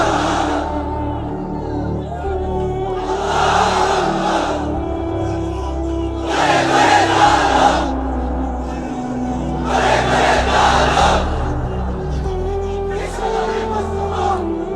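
Large congregation at an Islamic sermon shouting takbir in unison in response to the preacher, several loud massed bursts of crowd voices rising and falling over a steady hum.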